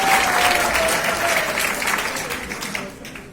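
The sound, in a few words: applause for the neta ji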